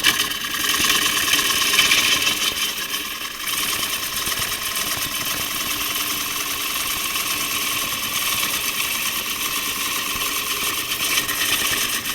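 A wood lathe runs while Richard Raffan turns a bowl profile with pull cuts, a continuous motor whine and hum with a brief dip near the start, then steady running without talk.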